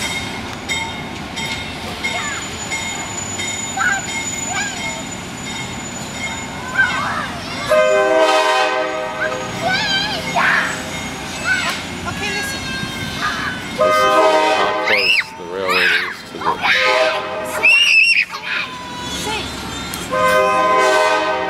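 An Adirondack Scenic Railroad train rumbles past with steady rolling noise, sounding several long horn blasts midway; close and loud throughout.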